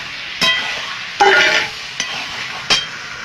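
Chicken added to spiced masala frying in a pan, with a soft sizzle throughout and four sharp bursts of stirring and scraping spaced across a few seconds, with no talking.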